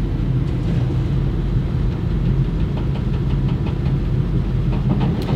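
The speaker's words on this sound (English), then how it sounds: "He is driving that little loader, scooping soil, all while eating pizza." A small loader's engine runs steadily while scooping soil, a continuous low rumbling drone with faint knocking that holds at an even level throughout, with no talk.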